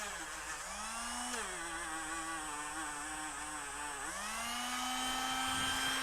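Dremel rotary tool spinning at high speed while polishing guitar frets, a steady close whine that dips in pitch twice as the tool is slowed or loaded, then climbs back up.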